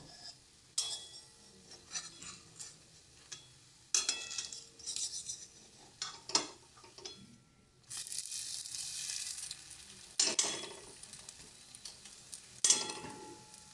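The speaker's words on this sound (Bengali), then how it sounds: "পেছনের পিঠটা একটু হালকা কড়াভাবে ভাজবো" Patisapta pitha fries in a pan with a quiet sizzle, broken by scraping and clinking as a spatula lifts and turns it in short, irregular bursts.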